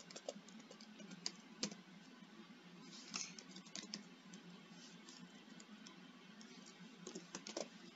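Computer keyboard keys clicking steadily while JavaScript code is typed, with irregular bursts of keystrokes and a few sharper taps, close and fairly quiet over a low background hum.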